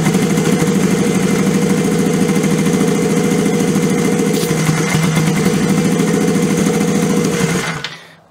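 A turbocharged Honda GS400 scrambler motorcycle with a leaking intake manifold idles close by, a loud, steady, fast mechanical chatter that runs unbroken until it cuts off abruptly at the end.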